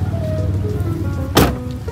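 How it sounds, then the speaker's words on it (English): Steady rain falls outdoors, a dense even patter with one short louder splash or knock near the end. "Yeah, and it's raining too."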